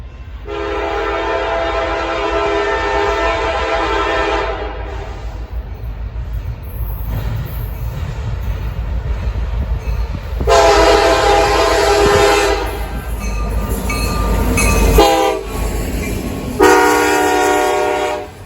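A freight train passes close by on a railroad, sounding loud, long horn blasts in several separate bursts over a continuous heavy rumble of rolling cars.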